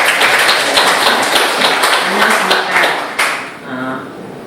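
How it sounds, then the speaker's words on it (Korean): Audience applause at a ceremony marking Korea's 70th Liberation Day, brisk close clapping that carries for about three seconds, then tapers off into a quieter murmur. "다시 한번 박수 부탁드립니다"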